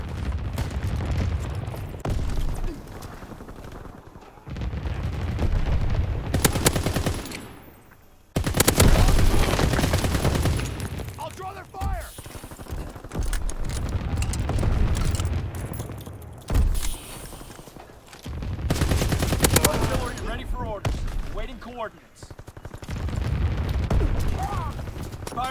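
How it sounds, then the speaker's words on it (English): Rapid anti-aircraft gunfire rattles through a battlefield video game match, loud bursts and booms recurring across the scene with brief gaps, mixed with radio-style voice callouts over the action. "Anti-aircraft burst has commenced. Targeting enemy aircraft."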